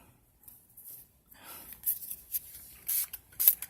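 Quiet hissing spritzes from a spray bottle of alcohol onto nails, a few short bursts close by, with faint handling noise between them.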